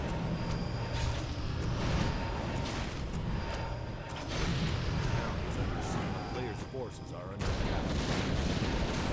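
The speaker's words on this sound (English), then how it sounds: "the mortar teams take out this base real quick" Mortar teams shell and destroy a base during a Warcraft 3 4v4 tournament match, with a steady barrage of booming blasts and crackling impacts under continuous commentator talk.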